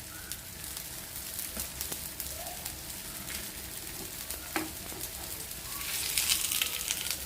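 A semolina and banana snack fries over a medium-high flame, a soft, even sizzle close by with faint clicks and scrapes as the pieces are turned, swelling slightly louder near the end.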